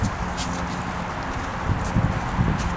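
A horse named Romeo walks forward on his first ride, hooves clip-clopping in a steady, close walking rhythm with faint rustling around them.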